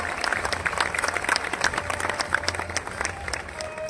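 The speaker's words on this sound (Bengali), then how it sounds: "এরপরে আমরা অনুরোধ একটু জোরে হাততালি হোক" Audience clapping at a Police Day celebration program, a moderate scattered applause with a low hum beneath and some voices mixed in.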